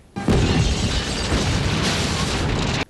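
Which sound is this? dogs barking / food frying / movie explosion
movie explosion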